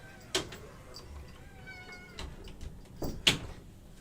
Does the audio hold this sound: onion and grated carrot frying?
no